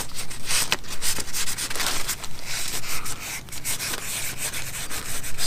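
Steady hand sanding of boat gelcoat with 1000 grit sandpaper, a close rhythmic rubbing scrape repeating in short strokes, alone without talk.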